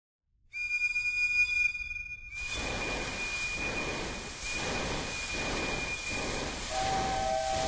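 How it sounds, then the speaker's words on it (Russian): An early-20th-century English steam train in the game Agatha Christie: The ABC Murders lets out a steady whistle tone, then a loud, continuous steam hiss with faint rhythmic chuffing and a second whistle near the end. "Поезд. Мы едем на поезде. Это английский поезд."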